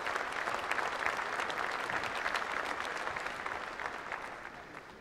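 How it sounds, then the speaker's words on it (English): Audience applause ringing out at a Red & White dairy cattle show, a steady wash of clapping from a sizeable crowd that holds strong for several seconds and then slowly tapers off. "we should show a round of applause for the quality the exhibitors did show this morning"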